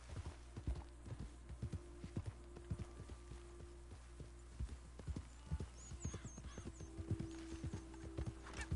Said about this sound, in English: Why your female horse sounds like Mr. Ed